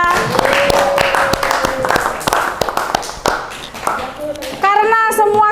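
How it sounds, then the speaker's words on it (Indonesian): Classroom applause for a student during an Indonesian-language teaching session: scattered, uneven claps from a small group of children, with young voices chattering over them and a short sung or called-out phrase near the end. "Tepuk tangan untuk Vanessa."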